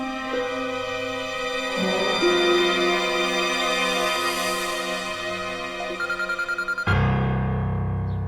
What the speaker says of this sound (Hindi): बज रहा उसका फोन।